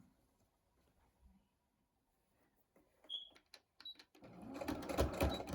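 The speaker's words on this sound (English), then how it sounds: "And then we're ready to sew at the edge by here." A sewing machine starts stitching along the edge of a fabric face mask, first a few scattered clicks and handling sounds, then a brief dense burst of fast, close mechanical whirring.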